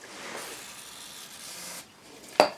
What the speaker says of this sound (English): Give that a good spray in there first.